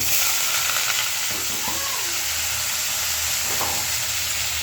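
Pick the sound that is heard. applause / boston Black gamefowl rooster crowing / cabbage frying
cabbage frying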